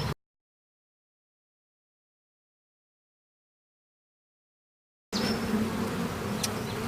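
Honeybees from a queenless hive drone in a dense, steady swarm buzz, close and fairly loud, coming in after a long silent gap while the hive is shaken out.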